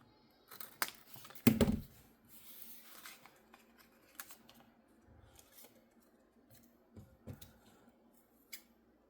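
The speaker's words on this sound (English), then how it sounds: "I just cut one corner, flipped it over, used it as the pattern to cut the other corner" Scissors snipping the corner of a paper tag shape for a junk journal, a short cluster of quiet crisp cuts early on, then faint rustling and light handling noises.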